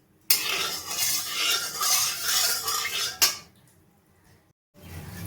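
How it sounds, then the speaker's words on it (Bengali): Hot white oil in a kadai for egg chicken chowmein, with a loud metal spoon scraping and stirring for about three seconds, then a sharp clank, a quiet pause and faint sizzling. "তেলটাকে আমি ভালোভাবে গরম করে নেব।"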